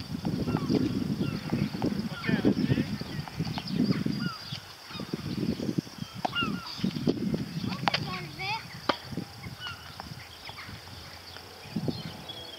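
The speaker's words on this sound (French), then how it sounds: "Oh, qu'est-ce qu'ils font là, ces oiseaux-là?" Geese honking repeatedly at a tennis court, bursts of calls rising and falling in loose overlapping rhythm at moderate distance, with people talking in French between and over the calls.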